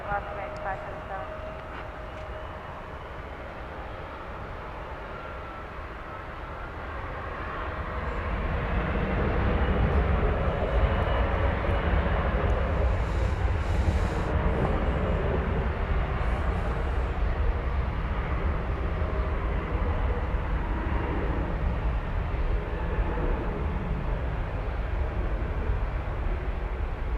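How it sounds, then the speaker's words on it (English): An Envoy airliner taking off from runway 18 left at DFW, a broad engine roar that swells over several seconds and then holds as a loud, steady rumble, with radio voices talking over it. "Envoy 4004, RNAV to Laren, runway 18 left, clear to take off"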